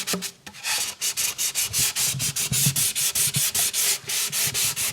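Hand sanding of a wooden instrument body with the grain to remove orbital marks left by 320 grit sandpaper, a close, rhythmic series of quick rasping strokes, about four per second, with no talk.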